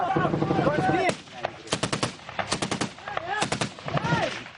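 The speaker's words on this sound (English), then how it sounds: "Gonna put a rapid fire down and try and move out." Rapid bursts of automatic gunfire crack out in quick repeated volleys, loud and close, with shouted voices and radio-style talk between and over the shots in a combat setting.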